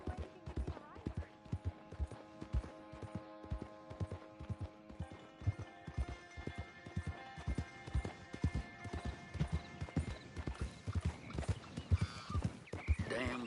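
Horse hooves clip-clopping in Red Dead Online, a steady, even rhythm of clear close hoofbeats running throughout under a low game background, with no talking.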